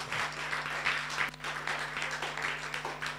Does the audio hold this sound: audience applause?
yes